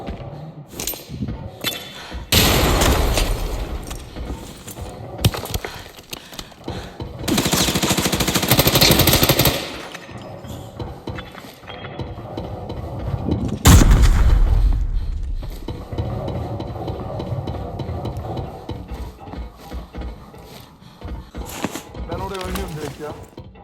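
AUG 5.56 rifle fire in the shooter game Arena Breakout comes as several loud, rapid automatic bursts separated by quieter stretches, with players' voices talking at times.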